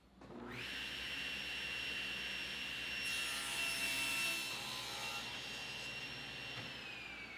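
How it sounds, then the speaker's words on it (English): A power saw ripping a wooden board lengthwise to make window molding, a steady high whine that rises as the blade spins up, holds under load through the cut, then winds down at the end. "I'll make the molding by first ripping the board at 2 inches and then resawing the board at 1/2 of an inch."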